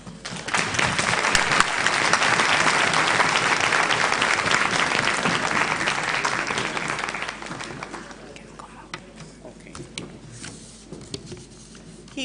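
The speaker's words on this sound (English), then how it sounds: "Keep the applause going." Dense, loud applause from a conference opening-ceremony audience at an education conference, sustained for several seconds before thinning out to scattered claps and murmuring.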